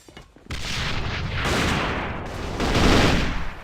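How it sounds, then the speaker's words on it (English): Exchange of gunfire in A.V.A during a competitive match: dense, loud bursts of rapid automatic fire crackling almost continuously after a short quiet opening, close and unbroken with no voices. "As both players are exchanging bullets here,"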